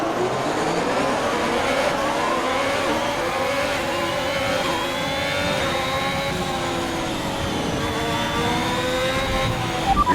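A Formula 1 car engine in the video game F1 2021 at the British Grand Prix, worn and droning steadily throughout, its pitch climbing slowly as it revs, loud and continuous with no voices.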